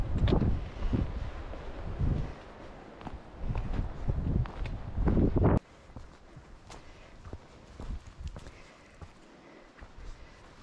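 Light wind gusts buffet the microphone in uneven rumbling bursts, easing after a few seconds into a quieter breezy rustle with light scattered taps, on a dry, clear day on the East Coast Trail.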